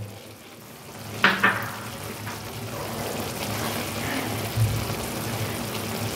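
Fried potatoes go into a pan of hot spiced oil and gravy for an egg curry, giving a steady close sizzle with a couple of sharp clinks and scraping stirs near the start, no talk.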